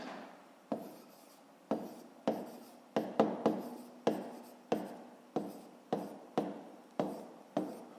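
A pen writes by hand on paper while working a fifth-grade math exercise, making a string of close, regular scratchy strokes about twice a second, each with a sharp start and a fading tail.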